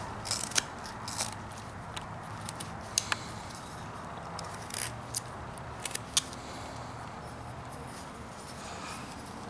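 A knife whittles a block of wood into a mother and child figure, with irregular dry scraping cuts and occasional sharp clicks close by over a faint background.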